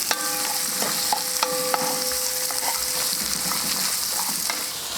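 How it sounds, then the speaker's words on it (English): Onion and carrots fry in a pan on a Kamado Joe grill while being stirred, a dense continuous sizzle with clinking utensil taps against the pan. "in with our onion and carrots. Give that a good stir."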